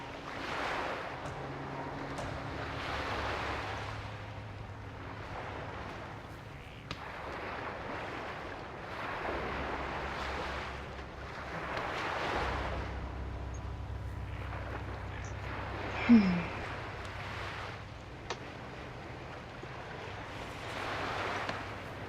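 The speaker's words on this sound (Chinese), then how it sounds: "你看这大海的声音，其实这音效算是提示吧" Sea waves ambience in the Sherlock Holmes: Crimes and Punishments video game, soft surf swelling and receding in slow, regular surges, with a low steady drone beneath and no speech.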